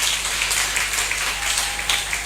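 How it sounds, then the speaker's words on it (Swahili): A church congregation applauding during a praise service, a steady, dense wash of many hands clapping together, loud and continuous throughout with no break. "Wapigeni makofi"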